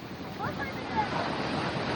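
Ocean waves wash steadily at a beach, a soft broadband surf roar mixed with wind buffeting the microphone, while people speak faintly nearby.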